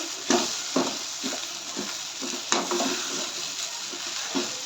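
Sevai upma being stirred and sautéed in a pan with salt, a steady sizzle broken by repeated scraping strokes of the spoon at an even rhythm, close and moderately loud with no voices.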